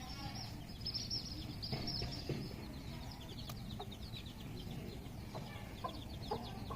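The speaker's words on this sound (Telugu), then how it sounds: "కోడి వస్తుంది, నీ పని పెడుతుంది." Chickens cluck softly outdoors in a steady, scattered stream of short calls over a constant background hum, no voices.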